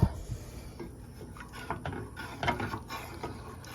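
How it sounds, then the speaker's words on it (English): A utensil stirs béchamel sauce in a pot, producing soft repeated scraping and clinking strokes against the metal, fairly close and steady, with no talking. "And keep on stirring."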